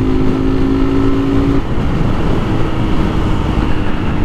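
A motorcycle engine runs loud and close with a steady throaty rumble, a brief higher whine fading partway through.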